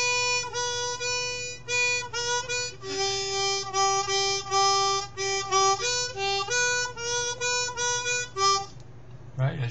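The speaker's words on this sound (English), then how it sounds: "if you want to get a half tone, you have to do what you call bend the note" A 10-hole harmonica plays a bright, reedy run of notes alone, with short repeated blows and a bent note sliding in pitch, close and fairly loud.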